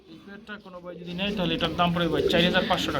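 Pigeons coo at a busy pigeon market, their soft throaty calls close by and mixed with people talking over them.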